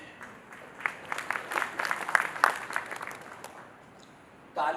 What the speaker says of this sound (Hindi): तालियों के बजने से लगता है कि बाकी लोगों को शक है।